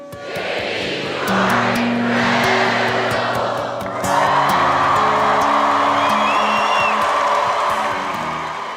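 A recorded crowd of people cheers and whoops in a loud, sustained swell that rises, dips briefly, then surges again and tapers at the end.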